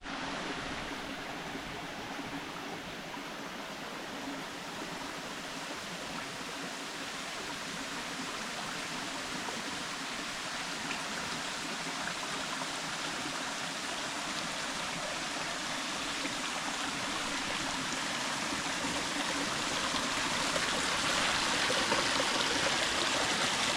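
Chanta Then Falls in a Chonburi rainforest pours and rushes in a steady, dense roar of falling water and a flowing stream, loud and constant without pause, growing slightly stronger toward the end.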